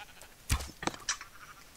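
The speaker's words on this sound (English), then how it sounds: "Your sheep is just walking back to its pen." A couple of short sheep bleats in a video game, quick and close, with a soft thump in between.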